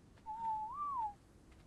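A single smooth whistle, the passive whistle command in Ark: Survival Evolved, rises slightly and falls over about a second, clear and alone over a quiet background.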